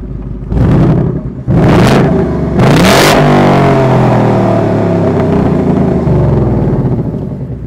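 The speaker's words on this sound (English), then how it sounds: "Give it a couple revs." A 2024 Ford Mustang Dark Horse V8 engine blips twice in loud quick revs, then roars up a third time and settles into a deep, rumbling idle, close by.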